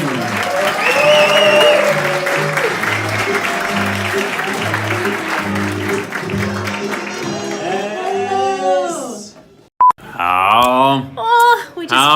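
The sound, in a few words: audience applause for comedy open mic hosts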